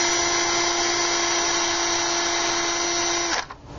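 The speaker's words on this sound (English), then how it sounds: "I'm going to take my screw gun, put the triangle into position, and make a pilot hole so that it doesn't break the wood" Close, steady whine of a screw gun drilling a pilot hole into wood for a gate cable support kit, running continuously before stopping abruptly.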